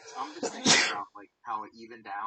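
A single sharp sneeze bursts out close to the microphone during a casual Pokémon draft league chat, with people talking just before and after it.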